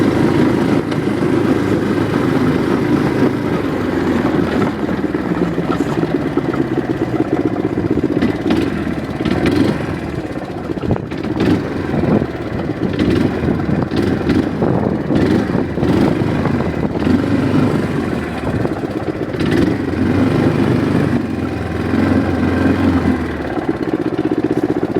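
Manco minibike engine with a centrifugal clutch and belt drive to a chain, running steadily for the whole stretch with a constant mid-pitched drone and small surges, no talking over it.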